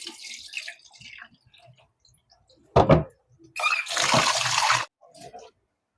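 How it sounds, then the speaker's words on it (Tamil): Rice is washed in water for Jaffna milk rice, with a short splash and then a longer sloshing, swishing burst amid quiet drips and pauses, close by. "இப்ப நான் இந்த அரிசியை கழுவி எடுத்துக்கொண்டு வரேன்னா, நல்லா கிளஞ்சி கழுவோம்."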